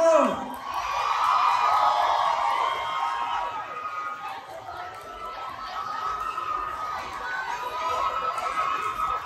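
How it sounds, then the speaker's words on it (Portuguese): A crowd at a public K-pop dance performance cheers and shouts continuously, with excited voices and whoops forming a loud, dense wash that stays steady throughout. "aplauso!"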